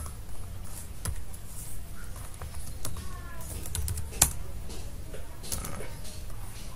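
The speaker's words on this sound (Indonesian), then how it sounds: "bisa kita ketikkan untuk perintahnya ipconfig spasi /all ya" The ipconfig command is typed on a computer keyboard on a Windows 7 machine, giving irregular close key clicks and taps over a low background hum, with one sharper keystroke standing out.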